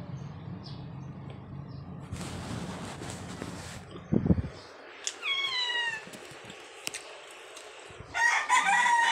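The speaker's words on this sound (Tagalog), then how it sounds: "Alam niyo ba, dito yung mga pusa." Cats meowing in a few short, rising calls, close by, after some rustling and handling noise, with a rooster crowing and fowl clucking among them.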